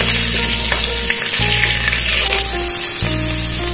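Bay leaf, five-spice seeds and torn green chillies fry in hot oil for an Ilish fish-head and pui shak dish, giving a steady loud sizzle with a low hum running underneath that cuts out briefly twice.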